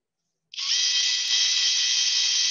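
A robot's drill starts abruptly and grinds steadily into rock, turning it into powder. The high, continuous whine is loud and close, with no talking.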